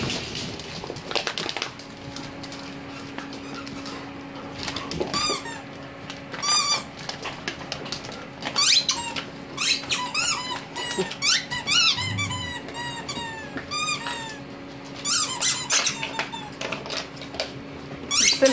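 Squeaky dog toys squeezed during play as a pack of dogs digs into a mystery box of toys, giving repeated sharp squeaks in quick bursts, close and loud, with a few quieter gaps.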